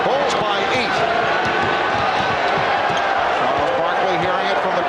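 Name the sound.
basketball arena crowd reacting at Suns vs Bulls game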